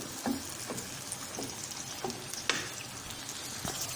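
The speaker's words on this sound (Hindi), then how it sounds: "इसको थोड़ा सा लाइट सा इसको भी हम फ्राई करेंगे" Tomato paste and spices frying for bhindi do pyaza, a soft steady sizzle with scattered ticks and small pops from stirring, quiet and close, no talk.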